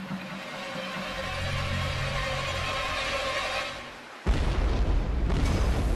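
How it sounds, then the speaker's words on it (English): A bomb explosion splitting a liquefied natural gas tanker: a deep, rumbling blast roars loudly and sustains, fades briefly, then a second heavy burst hits with crackling, booming low-end energy. "The bomb's explosion splits the side of one of the tanks"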